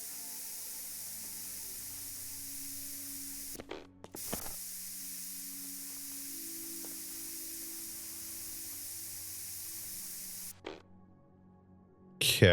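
A pump sprayer in the video game Chernobyl Liquidators gives a long, steady hiss of spray. It pauses briefly twice and then cuts off near the end, with no talking.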